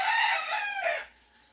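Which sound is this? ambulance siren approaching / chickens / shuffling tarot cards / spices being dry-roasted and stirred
chickens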